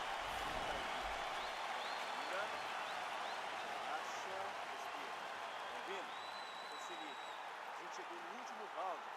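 Crowd applauding at a UFC fight, a steady wash of clapping and cheering from a large arena audience held at an even level throughout.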